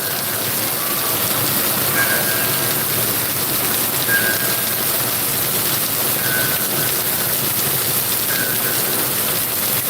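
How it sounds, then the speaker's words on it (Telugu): Steady rain hisses evenly throughout, a dense continuous patter with faint, brief tones now and then in the background. "ఇప్పుడు వర్షం పడుతుంది"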